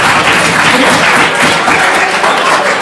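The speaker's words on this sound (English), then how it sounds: "Give yourself a round of applause for that." A conference audience breaks into loud, sustained applause that holds steady for about three seconds.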